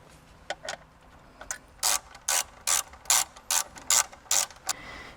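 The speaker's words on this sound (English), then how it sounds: "You can either use a Phillips screw driver to go ahead and take it off, or a 8mm socket and ratchet." An 8mm socket ratchet tightens a car radio grounding cable in a Toyota Prius: a few light clicks, then a rapid run of about ten crisp, evenly spaced ratchet strokes, close and alone.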